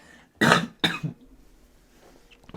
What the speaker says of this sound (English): I'm going to have to cough a second.